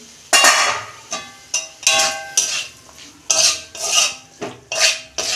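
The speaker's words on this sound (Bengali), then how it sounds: "আর 2 মিনিট ঢাকা দিচ্ছি। পুরো ঢাকনা খুঁজছি।" Metal pots, pans and lids clatter and clank in repeated sharp bursts as someone rummages for a pot lid in a home kitchen while a vegetable curry cooks, with no talking.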